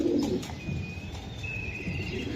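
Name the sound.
racing pigeon cooing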